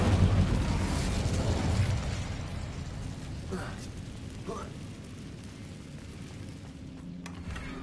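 The Incendio fire spell in Hogwarts Legacy, a loud whooshing blast of flame that opens the moment and then gives way to a quieter, crackling game ambience with a few faint sharp accents.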